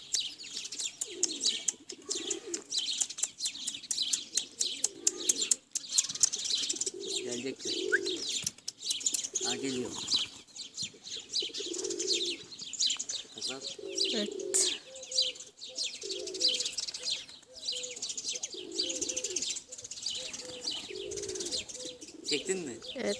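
Pigeons chirping and cooing close by, with steady high twittering over repeated low coos and occasional rustles throughout.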